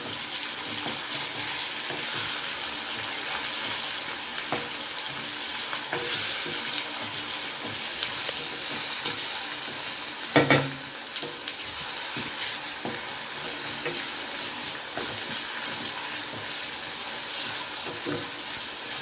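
Chopped tomato sizzling and frying in a pan for Maggi noodles, a steady close hiss with stirring scrapes throughout and a sharper clatter midway.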